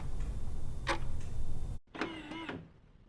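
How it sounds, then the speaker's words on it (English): An automatic door lock mechanism engages with a short mechanical whirring buzz and clicks, close by, following a sharp tick and a sudden drop in background hiss. "Now that you hear that sound, that manually locked the door, and now it's completely locked."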